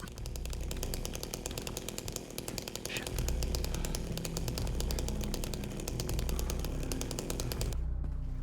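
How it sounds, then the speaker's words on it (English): A chainsaw in Silent Hill 2 roars steadily at high revs for several seconds, loud and continuous under ominous game ambience, cutting off abruptly at the end. "he already has chainsaw whipped out"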